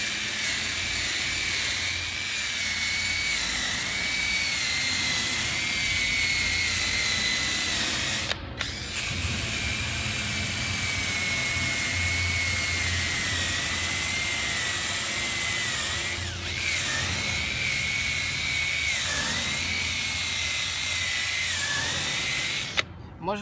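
An electric drill with a wire brush attachment sands the edges and right angles of a metal gate, a loud continuous whirring grind with brief pauses and shifts in pitch as the brush moves along the metal.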